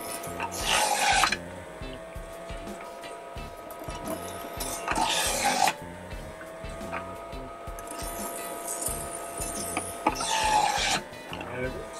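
An Omega 1000 centrifugal juicer with a plastic cover grinds hard vegetables such as carrots, beets and celery, giving a close, loud motor whine with three rasping bursts as pieces are pushed through.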